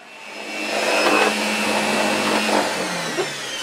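A Panasonic MC-E42N Electronic vacuum cleaner, awaiting refurbishment, roars loudly and steadily after spinning up, with its whine drifting slightly in pitch.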